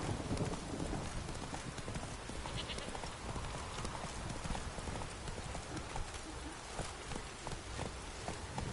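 Horse hooves gallop steadily at a fast clip in The Witcher 3, a continuous near rhythm of clip-clop beats filling the whole stretch without pause.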